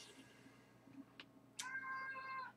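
A house cat meows: a few faint, short chirps first, then one loud, drawn-out meow near the end, close and with no one talking over it.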